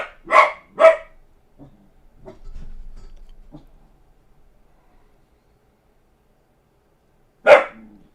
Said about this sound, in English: Max is barking at something.